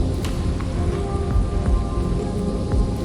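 A heavy storm with dense steady rain hammering down and low rumbles of thunder underneath, loud and continuous throughout.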